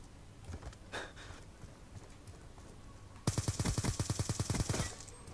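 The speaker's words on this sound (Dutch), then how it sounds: "Oh, ik word ziek hard beschoten daar, zeg maar." Video game gunfire in Black Ops 2: a rapid burst of automatic shots, loud and close, follows a quieter stretch of distant scattered shots and background game noise.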